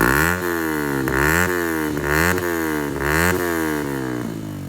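A Yamaha MT15 motorcycle with a new carbon-finish exhaust and dB killer fitted revs in repeated rising blips, a loud close buzzing engine note climbing and falling several times.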